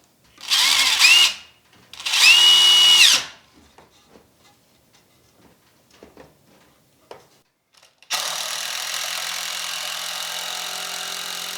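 A power drill whirs in two short, close, loud bursts driving screws, followed by scattered quiet knocks and handling, then a steady high motor whine running to the end.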